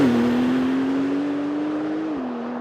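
A Porsche 911 Turbo S engine holds a strong, steady tone as it accelerates, then drops pitch briefly as it shifts gear near the end. The sound is loud and continuous, with no talking over it.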